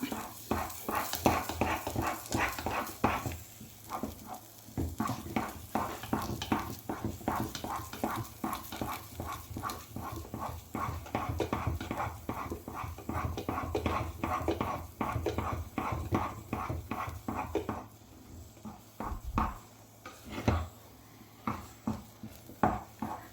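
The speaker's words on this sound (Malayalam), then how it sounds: "ഒരു രണ്ട് ടേബിൾ സ്പൂൺ ഗോതമ്പ് കൂടി കൂടി ഇട്ട് കൊടുത്ത് നമുക്കൊരു രണ്ട് മിനിറ്റ് കൂടി വഴറ്റി കൊടുക്കാം" Wheat flour is stirred as it roasts in a pan for badam halwa, a spoon scraping and tapping in a quick, even rhythm throughout, close and fairly loud with brief pauses toward the end.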